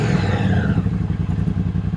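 Triumph Speedmaster motorcycle with chrome cut exhaust pipes, a loud close-up engine rumble with a steady low throb that holds at volume throughout a short ride.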